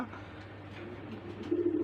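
Tiger grubas pigeons at a pigeon farm coo softly and steadily, a low murmuring that swells slightly toward the end, with no talk over it.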